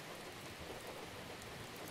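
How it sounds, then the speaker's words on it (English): Rain falling in a forest, a soft, dense and continuous hiss of drops on leaves and ground, faint and even with no voices. "Listen to the rain."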